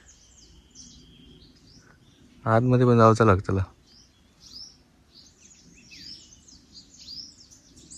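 Birds call among the trees with faint, scattered high chirps and twitters that continue throughout, while someone speaks briefly in the middle.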